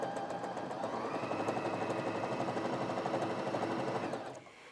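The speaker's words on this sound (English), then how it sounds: "Now I went top speed there just to show you, which is around 720 stitches per minute" A Janome J3-20 sewing machine runs a straight stitch at top speed, about 720 stitches per minute, giving a steady, loud mechanical whir and rapid needle clatter for several seconds before it slows and stops.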